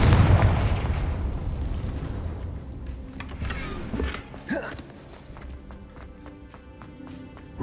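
A fiery blast spell bursts in the Hogwarts Legacy game, a sharp explosive crack followed by a short rumbling decay, with lighter magical whooshes and rattling effects trailing off afterward.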